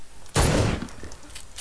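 A semi-automatic gun fires in the Krunker video game, giving one loud, close shot with a short decaying tail. Faint, quieter game sounds follow.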